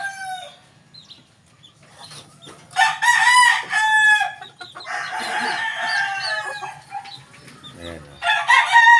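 Several four-month-old Thunderbird stags in a backyard crow loudly and repeatedly, with overlapping hoarse calls and clucking close by. Someone talks briefly in between.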